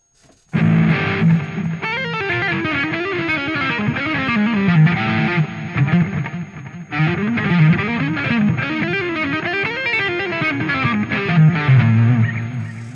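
An electric guitar plays fast, continuous legato runs through an MVave Blackbox with distortion switched off, loud and steady for about twelve seconds, with no talking.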